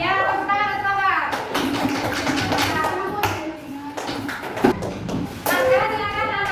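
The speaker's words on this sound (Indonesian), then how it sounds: "tepuk tangan untuk Mbak" Schoolchildren in a primary classroom clap for a classmate, a burst of scattered hand claps that rises and fades, with a teacher and children speaking around it.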